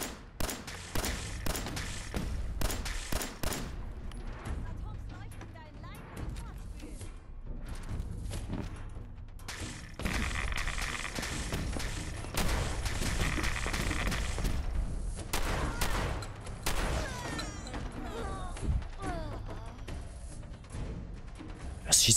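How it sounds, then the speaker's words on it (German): Gunfire in the video game Fallout 4 cracks in scattered bursts and single shots with some thuds and booms, sounding at a middling distance over game ambience. "Was schießt hier für Kanonen, sag mal?"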